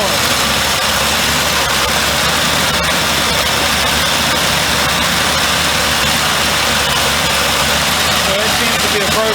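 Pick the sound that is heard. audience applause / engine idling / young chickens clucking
engine idling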